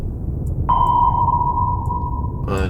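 In the video game War on the Sea, a clear, steady sonar ping on a submarine rings out as one long electronic tone under a low rumble of background noise, then cuts off into a short burst of noise.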